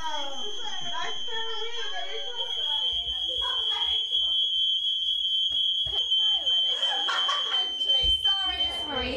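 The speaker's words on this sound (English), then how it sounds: "A fire alarm!" A high, steady electronic fire alarm tone sounds continuously while several people talk and laugh over it.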